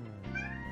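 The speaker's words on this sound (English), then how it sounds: "You can hear my cat." A house cat gives a single short, fairly faint meow, rising then falling, with no talk over it.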